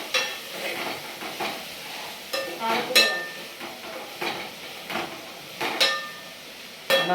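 Curry is stirred in a frying pan on a home stove, with a spoon scraping and clinking against the pan in irregular strokes over a soft sizzle, close and moderately loud, without talk.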